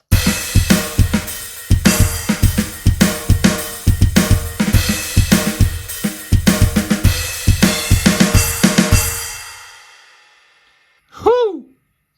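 A GarageBand drum kit plays a steady, punchy groove with cymbals washing on top, then rings out into a reverb tail before a short, faint tonal blip.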